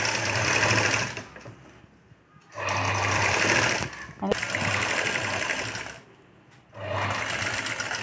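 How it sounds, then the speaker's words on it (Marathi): An electric sewing machine stitching along the edge of a sleeveless princess-cut blouse, running in steady whirring, rattling bursts with short pauses between, close and loud, with someone talking during the pauses. "आता आपण याला कडेने शिवून घेऊ पाव इंचाच्या अंतरावर एक टिप मारू"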